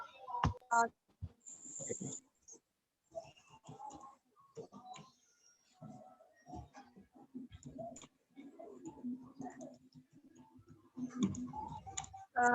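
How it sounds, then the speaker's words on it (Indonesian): Typing into a chat box on a computer keyboard during an online class: scattered soft key clicks and taps in irregular bursts, fairly faint, with brief background voices. "Lagi ngetik di kolom chat."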